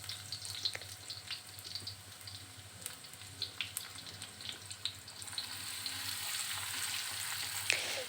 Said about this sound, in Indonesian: sekarang tinggal numis perbawangannya nih Bunda. Ditumis sampai wangi